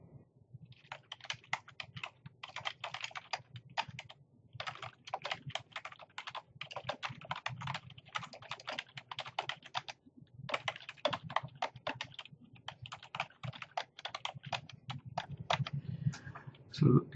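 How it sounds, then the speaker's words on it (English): Steady rapid typing on a computer keyboard, close and clear, with dense bursts of key clicks separated by brief pauses, no voices. "here I'll just type the common name"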